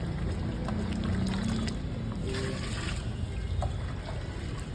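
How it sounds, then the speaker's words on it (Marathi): Water poured into a large pot of village hotel-style khichdi with cooked tomatoes and chillies, a steady, fairly loud rushing pour running continuously with faint splashes and no voices. "पाणी टाकायचं पाणी."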